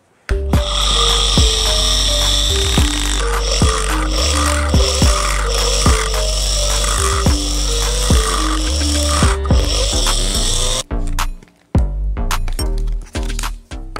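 A tool cuts socket openings into a PVC sheet for a homemade inverter board, giving loud, close, rhythmic cracking and snapping strokes that repeat steadily, then stop into a few scattered scrapes and knocks.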